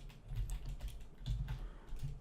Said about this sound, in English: let's make some keyboard smash here